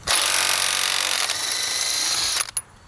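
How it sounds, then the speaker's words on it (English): An Ingersoll Rand W5150 cordless impact wrench with a 27mm impact socket hammers a lug nut off a Ford F250 turbo diesel: a loud, continuous rattling whir for over two seconds, then a short tail of spin-down. "I'm going to use the W5150 to remove a couple lug nuts on this Ford F250 turbo diesel"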